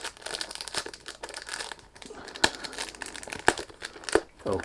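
Close, busy crinkling and crackling of packaging as a boxed 100 ml Emper Presidente Pour Homme Official Edition eau de parfum is unwrapped, with sharper tearing snaps near the end and a faint voice underneath.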